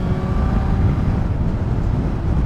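A 2012 Suzuki GSR750A motorcycle engine accelerating in third gear makes a loud, steady low rumble mixed with heavy wind buffeting, with faint rising engine tones underneath.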